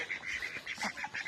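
A duck, kept for a picnic meal, gives a rapid run of short nasal honking quacks, about eight calls in quick succession, fairly close and on its own.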